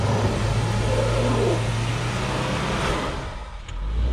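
Subaru with a CVT transmission driven hard, a steady close engine drone with a low sustained tone, dipping briefly near the end before picking up again.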